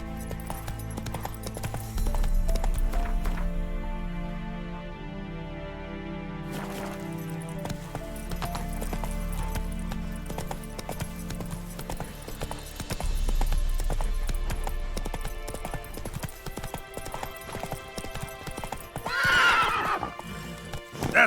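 Roach the horse in The Witcher 3 gallops with steady clip-clopping hooves under a game soundtrack, snorting and giving a whinny near the end, with a few brief words spoken.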